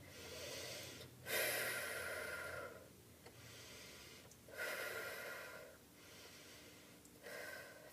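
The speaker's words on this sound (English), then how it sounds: "I'm gonna breathe for 3 breaths in" Slow, deep breaths during a lunge stretch, with three long airy inhale-exhale cycles, steady and close with no talking.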